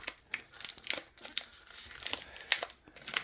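Plastic wrapping on a package of silicone mats crinkles and crackles up close in quick irregular bursts as it is pulled open, with no voice over it.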